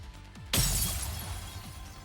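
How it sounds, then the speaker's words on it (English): A wall shatters in the video game NIKKE with one sudden loud glassy crash, and a bright breaking burst trails off over about a second and a half. "The wall shatters."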